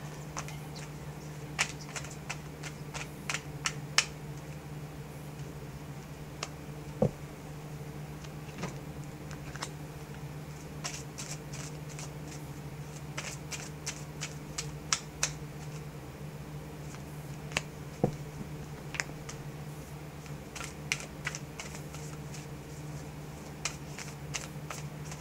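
Oracle cards are shuffled quietly in a calm reading, with soft, scattered riffles and flicks spread irregularly over a low steady hum and no voices.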